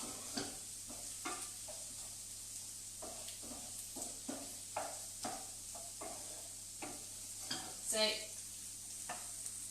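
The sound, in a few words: potato and carrot frying in a pan on the cooker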